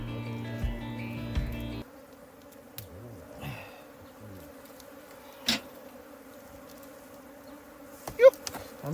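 Honey bees buzz around an opened beehive, a faint scattered hum with a few louder individual bees passing close to the microphone.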